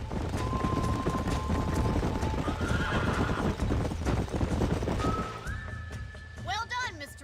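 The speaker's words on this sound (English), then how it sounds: "These are fine horses." Horses whinny and hooves clip-clop nearby in Red Dead Redemption, with a faint whistle and voices talking underneath, the neighing rising sharply near the end.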